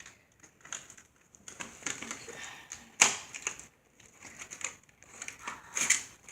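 Plastic packaging holding a glow-in-the-dark fidget spinner being opened up close: crinkling, crackling handling and scattered snaps, with two sharp clicks standing out, alone and fairly quiet.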